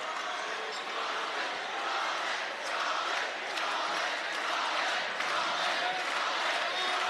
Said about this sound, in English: The crowd rooting for Kellen O'Toole to get an opportunity